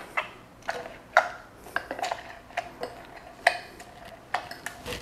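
Blackberries are stirred into a drink, making a series of sharp, irregular clinks and taps of a spoon against glass at close range, with no one talking.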